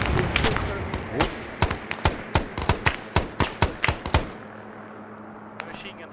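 Machine gun fire in the Vietnam-era Arma 3 mod: a dozen loud, evenly spaced shots crack out close by, followed by a quieter tail.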